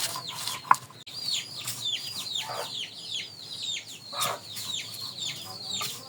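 Chicks cluck and chirp repeatedly in soft, scattered calls at close range, with a brief sharp knock early on.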